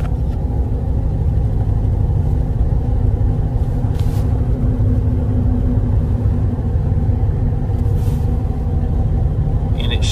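A 1997 Chevy drives along with a loud, steady engine and road rumble filling the cab, the low drone holding even through gear shifts, with a couple of faint clicks.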